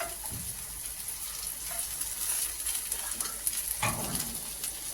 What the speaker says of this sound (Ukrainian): тут уже ничего жарится